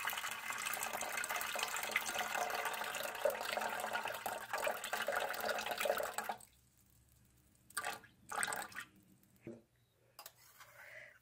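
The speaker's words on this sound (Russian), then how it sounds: "Продолжаю доливать простой водой" Plain water poured into a bread dough mixture for a bread machine, a steady close trickle for about six seconds, then a few short splashes and pours separated by quiet.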